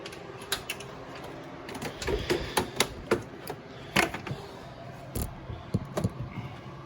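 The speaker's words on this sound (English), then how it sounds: "I'll just bolt this back together now." Bolts being fitted and tightened on a Mercedes ML500 oil cooler, soft irregular metallic clicks, ratchet taps and clinks scattered across the clip, faint and close by.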